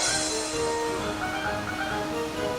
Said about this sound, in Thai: นี่น้ำตกมีฝายกันน้ำเอาไว้ด้วย